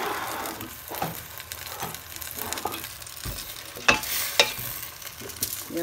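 Bizo caterpillars fry in a pot with bay leaf and seasoning, sizzling softly while a utensil stirs them, with a few sharper scrapes and clanks against the pot.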